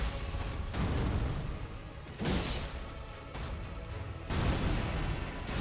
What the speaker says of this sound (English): I don't think I can get in there for an attack while the explosion happened